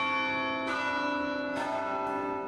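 Bells in a campus bell tower ring out in three successive strikes, each one blooming into long, overlapping resonant tones that hang in the air, heard clearly with no talk.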